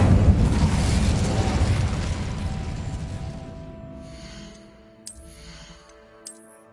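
A spell burst in Hogwarts Legacy, a loud roaring whoosh that swells at once and fades slowly over several seconds, followed by two brief bright chimes near the end.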